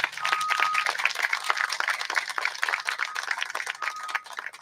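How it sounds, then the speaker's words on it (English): An audience at a courthouse and judicial annex building dedication in Mineral County applauds the architecture team, a moderate patter of distinct handclaps at mid distance that holds steady for several seconds. "Round of applause for these guys"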